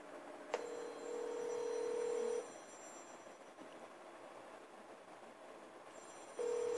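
A phone rings during a test call after eSIM activation on a Motorola RAZR. One electronic ring lasts about two seconds, then a pause, then a second ring starts near the end. The sound is clear, steady and fairly quiet, with no talk.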